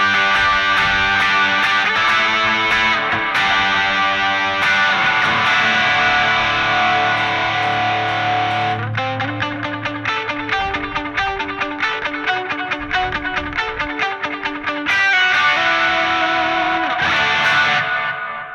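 An electric guitar plays sustained chords and then quick picked notes through a TONEX ONE pedalboard, each washed in echoing delay and spacious reverb, loud and alone with no talking.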